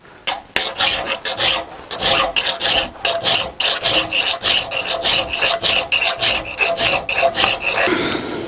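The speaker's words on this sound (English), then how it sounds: "I need to file the head so that it fits in the slot properly" A metal file rasps back and forth across the head of a bolt, shaping it to fit a T-track slot on a bandsaw sled, in close, loud, steady strokes of about two per second with no talk.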